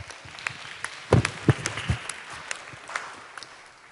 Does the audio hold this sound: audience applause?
yes